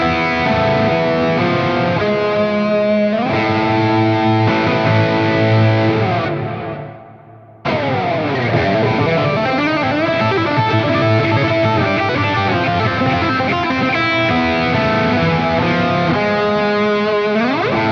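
A PRS McCarty 594 electric guitar runs through a Klon KTR overdrive for a high-gain tone, playing loud, sustained distorted chords and riffs with one brief drop to near silence before the playing resumes, with no talking.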